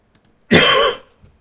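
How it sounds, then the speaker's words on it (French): A single harsh cough, loud and close to a microphone, a short raspy burst about half a second long after a quiet lead-in. "j'ai toussé"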